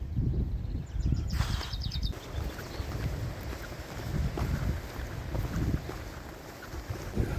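A gust of wind roars outdoors, buffeting the microphone in heavy low rumbling waves that swell and ease over several seconds.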